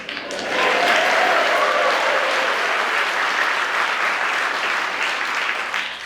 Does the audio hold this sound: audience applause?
yes